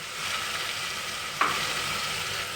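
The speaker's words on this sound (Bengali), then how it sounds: "গোটা সাদা জিরে ফোড়ন একটু ভেজে নিলাম" Whole cumin seeds fry in hot oil with a steady, even sizzle that holds throughout, close and moderately loud, broken once by a brief clink near the middle, with no voices.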